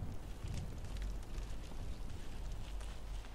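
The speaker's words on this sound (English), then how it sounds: "Guess he's cooking some food here on top of this little fire here." Small cooking fire in a settlement in the video game Fallout 4, a faint, steady crackling rumble with soft pops throughout and no voices.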